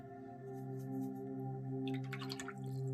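A paintbrush is swished and rinsed in a water jar while painting an autumn waterfall scene, giving a brief watery splashing burst near the middle over a steady tonal background hum.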